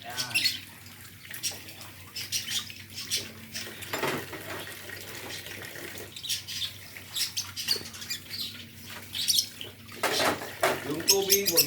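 Used dishes being washed under running water, with tap flow and clattering bursts that come and go close by, and a voice speaking now and then.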